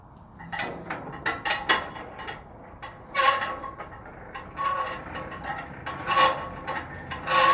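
Landing leg on a truck's tandem trailer being cranked up, giving irregular grinding, rasping metal bursts that come and go close by with short pauses, and no voices.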